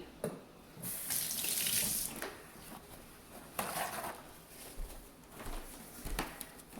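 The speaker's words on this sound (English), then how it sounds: "I'm gonna quickly wash my hands because they're all sticky" Running water from a kitchen tap splashes over sticky hands being washed, the flow swelling and breaking into uneven gushes and splatters at a fairly low level.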